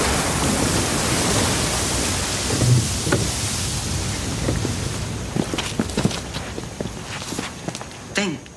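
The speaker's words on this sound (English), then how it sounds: "I thought that cursed storm would never end." A storm in an audio drama set in ancient Greece roars in a steady, loud wash of rain and wind, with scattered sharper cracks and splashes over it.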